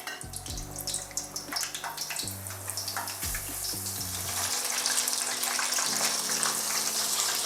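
Battered fish pieces drop into hot deep-frying oil for fish and chips, giving a steady bubbling sizzle that swells and grows denser partway through, moderately close, with a backing music track of low, sustained tones and no talk.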